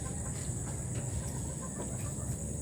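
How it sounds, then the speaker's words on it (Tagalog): Chickens in a backyard farm coop, scattered soft clucks and calls over a steady background hum, close but fairly quiet. "Yan ang ating kulungan na manok."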